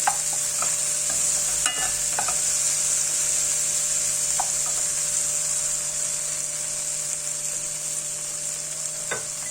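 Peppers and cheese frying together in a pan for a breakfast dish, a steady loud sizzle with occasional clicks and scrapes of a utensil stirring, plus a faint constant hum in the background.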